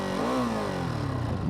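A 2025 Ducati Monster Plus motorcycle engine rumbles and its pitch rises then settles, a close, steady revving drone with no voices.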